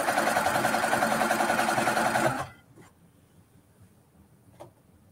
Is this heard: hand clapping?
no